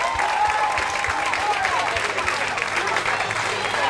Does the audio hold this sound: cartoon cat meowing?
no